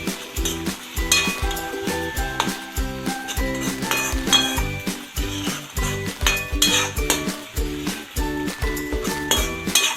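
A spoon clinks and scrapes steadily against a pan while garlic and a ginger-chili yogurt paste sizzle together, loud, close and rhythmic, with repeated metallic knocks through a continuous frying hiss and no talking.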